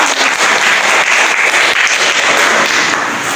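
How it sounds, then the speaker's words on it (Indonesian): A classroom full of students bursts into loud, dense applause, a continuous close wash of many hands clapping together without talking. "Tepuk tangan untuk kita"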